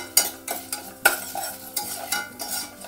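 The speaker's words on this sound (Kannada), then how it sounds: "ಈಗ ಧನಿಯಾ ಫ್ರೈ ಆಗಿದೆ." Coriander seeds are stirred and fried in a pan for a wedding-style vangi bath, giving a soft sizzle under repeated scraping strokes of a spoon at a quick, uneven rhythm, close up.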